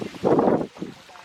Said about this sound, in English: I hope you can hear me okay, because it is quite windy.